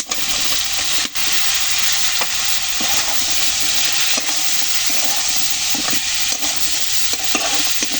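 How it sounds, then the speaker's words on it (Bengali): Kakrol (spiny gourd) pieces go into a pan of prawn malai curry base and are stir-fried, producing a loud, steady close-up sizzle broken by frequent scraping and clinking stirs of the spatula. "এরপর কাঁকরোলগুলো দিয়ে দেব।"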